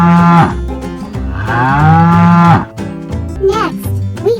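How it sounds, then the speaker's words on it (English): A cow moos loudly several times in close succession, long drawn-out lowing calls filling the clip with brief pauses between them, heard alone without talk. "The cow says, "Moo.""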